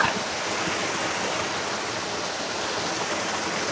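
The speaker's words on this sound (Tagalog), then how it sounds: "Mahiwaga Falls. Na matatagpuan nyo dito sa sakop na to ng Amadeo, Pangil." Mahiwaga Falls, a waterfall in Amadeo, Cavite, gives off a dense, steady roar of falling water. The rush is close and loud and stays even throughout, with no voices over it.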